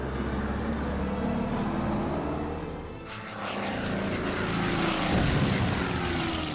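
A propeller airplane in the strategy war game Order of Battle: Allies Defiant drones loudly and steadily, its engine hum dipping briefly midway before swelling again, with no talk over it.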